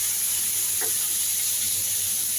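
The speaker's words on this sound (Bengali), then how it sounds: "পেঁয়াজ আর টমেটো দিয়ে আমি একটু খুব ভালো করে কষে নেব।" Ground onion and tomato paste frying in oil in a pan over a lowered gas flame, giving a steady, close, even sizzle throughout with a faint brief stir partway through.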